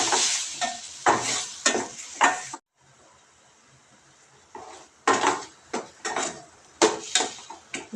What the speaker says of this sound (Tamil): இது கொஞ்ச நேரம் கிளறி விட்டுங்க.